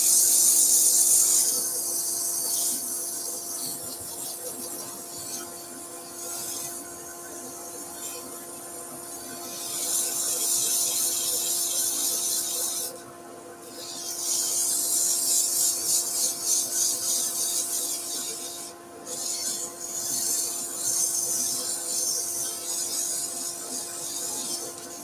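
Green oak spinning on a wood lathe is sanded with 150 grit sandpaper, a loud continuous rubbing hiss over the lathe's steady hum that swells and dips briefly as the paper is lifted and pressed again; no one talks.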